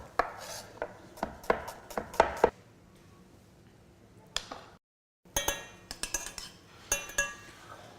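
Knife finely chopping shallots on a board, a close, quick run of sharp taps, a lull, then another burst of rapid cuts.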